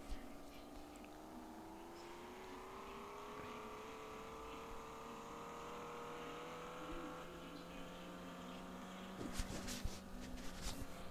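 A simulated car engine from the C180 Driving Simulator mobile game hums with a steady, sustained tone that climbs gradually while drifting, ending in a few sharp clicks and crackles.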